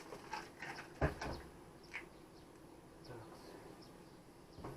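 A faint, steady hum of Buckfast honey bees drifts beneath outdoor background noise at the hive, with one brief louder knock near the start.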